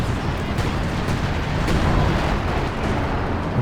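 Artillery barrage in the real-time strategy game Company of Heroes 2, a dense, continuous roar of low rumbling blasts and booms that runs steadily without pauses and with no voices.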